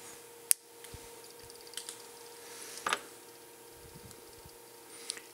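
Component leads on an electronics circuit board being trimmed with cutters: two sharp, isolated snips a few seconds apart, plus a softer one near the end, over quiet handling noise.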